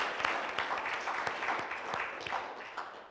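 Quiet, sparse applause from a church congregation at a live worship service, individual claps standing out in a loose, uneven rhythm over a soft background.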